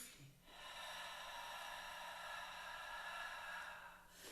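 A long, forceful breath pushed out during a Pilates ball breathing exercise, a steady airy hiss lasting several seconds at moderate level, close by, with no talking over it.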